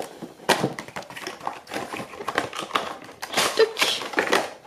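Someone opens a Funko Pop figure box: close tapping, scratching and cardboard clicks come in irregular bursts, fairly loud, with no voice.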